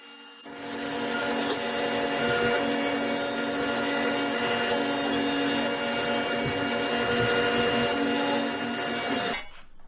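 A power saw rips through a wood panel for a single-sink bathroom vanity top, a loud, steady whining cut that runs for about nine seconds and then stops abruptly, with no talking.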